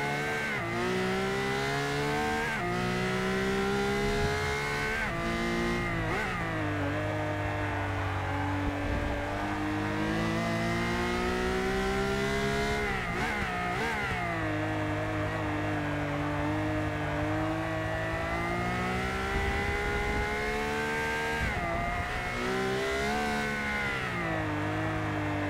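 A racing LaFerrari engine in Forza Motorsport 6 revs continuously, its pitch climbing through gear changes with short drops and surges, loud and steady throughout.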